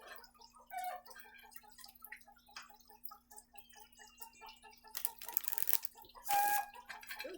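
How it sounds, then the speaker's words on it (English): Hens clucking while laying eggs, a steady run of soft, rhythmic clucks at moderate distance, with a couple of sharper, louder squawks breaking in near the end. "You might hear my chickens laying an egg, which they're currently doing."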